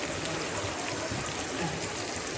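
Two large, finely chopped onions drop into hot oil for a spicy crab gravy and fry with a steady, close sizzling hiss that holds evenly throughout, with no talking.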